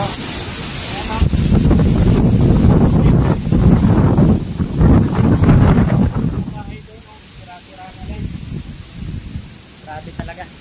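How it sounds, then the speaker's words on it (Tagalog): Strong typhoon wind from the southwest monsoon buffets the microphone in heavy, gusting roars that ease partway through, leaving a lighter rushing background with faint distant sounds. "Galing na dito yung hangin, habagat."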